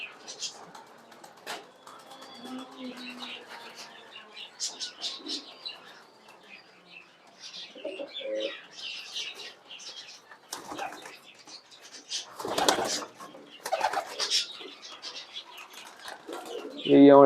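Large fancy pigeons in a farm cage, birds roughly chicken-sized, give soft intermittent coos and chirps with occasional wing flaps, close by and moderately loud, while someone talks over them.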